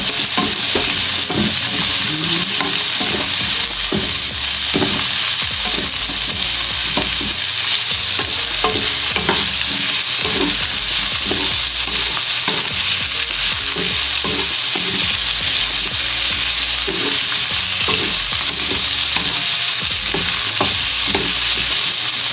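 Pork for igado frying hard in a pan, a loud, continuous sizzle with frequent clatters and scrapes from stirring, all close by and with no one speaking.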